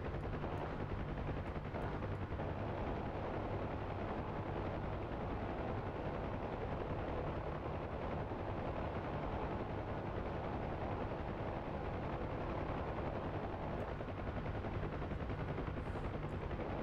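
Door gunner firing a machine gun from a UH-1H Huey helicopter in DCS World: a steady, continuous dense rattle of automatic fire over the constant rotor and engine drone, with no breaks across the whole stretch.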